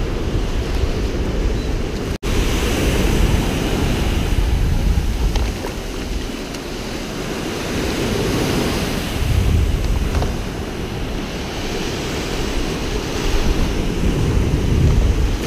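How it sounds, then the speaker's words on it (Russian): Ocean surf at Port Kembla beach in Australia, waves rolling and breaking in repeated swells under heavy wind buffeting the microphone, loud and close, with a brief dropout early on. "Волны здесь классные."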